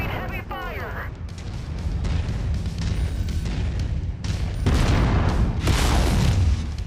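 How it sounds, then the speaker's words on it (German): Gunfire and heavy weapon blasts in MechWarrior 5: Mercenaries, a dense, loud stream of booming shots and explosions that builds through the scene, with a brief voice near the start. "Er hat zu früh geschossen."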